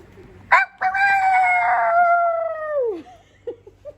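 A person imitates a rooster crowing, one long, loud, sustained call that drops off at the end, followed by a few short sounds.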